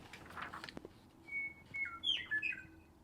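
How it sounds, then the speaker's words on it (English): A loud bird calls close overhead outdoors, a burst of sharp whistled chirps and warbling notes repeated over a few seconds, rising clearly above faint background noise. "That was the loudest bird ever."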